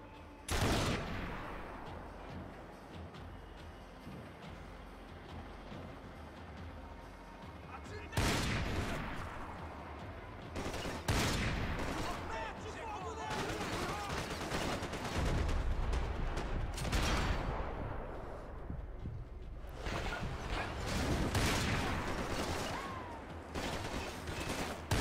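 Sniper and rapid gunfire in the Max Payne 3 video game, with bursts of shots and loud booming impacts coming in waves across the scene while someone talks over the combat.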